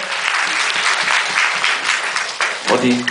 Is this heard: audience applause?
yes